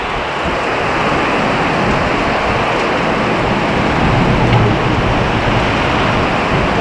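Heavy rain and strong wind roar in a dense, constant wash of noise while cycling through a storm across open farmland, with no pauses and no talking.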